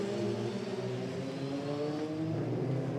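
Euroformula Open race cars pull out of the pit lane at the Pau street circuit, a steady engine drone with gently rising pitch as several cars move off together.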